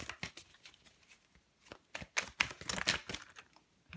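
Tarot cards being shuffled by hand, a run of quick papery riffles and slaps that grows busier and louder toward the middle before trailing off, close and with no voices.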